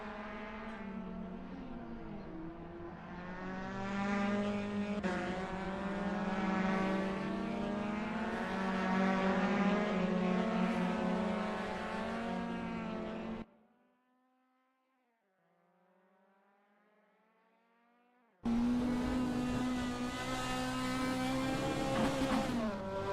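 A Fiat 131 race car engine drones in a racing video game at the Nurburgring, a loud sustained tone that drops away briefly to a faint whine and then returns at full volume.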